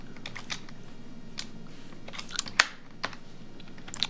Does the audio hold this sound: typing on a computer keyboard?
yes